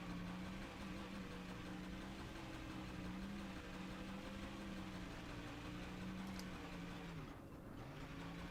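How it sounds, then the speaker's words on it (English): A damaged stock car engine in NASCAR Thunder 2004 revving without full power, a continuous droning rasp with a wavering pitch that dips near the end, steady and loud with no talking. "now that the engine has damage, it doesn't have enough power to actually do the revs"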